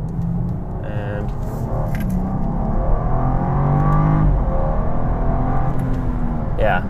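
A 2014 BMW 435i coupe engine accelerating and revving, a rising, fairly loud drone heard from on board, with a voice talking over it.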